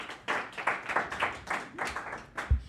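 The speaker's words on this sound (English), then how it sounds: "Can we get a round of applause for them?" A small group clapping, with irregular hand claps spreading through a couple of seconds, moderately loud and close, without any talk over it.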